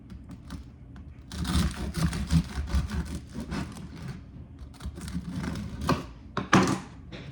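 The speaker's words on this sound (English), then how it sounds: "So we're gonna cut into that one first." A knife saws through the crisp crust of a buttermilk-starter sourdough loaf, producing irregular crunchy, crackling bursts that come in uneven strokes at close range amid quiet pauses.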